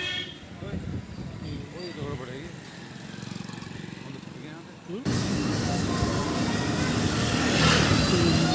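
SDM official car driving past on the Govardhan parikrama route, a steady engine and road rumble that swells louder midway through as it draws close, with busy outdoor noise around.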